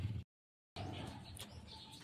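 Racing pigeons at the loft during a final-lap race clocking, with soft cooing and chirps after a short dropout, faint and close, over a low background hum.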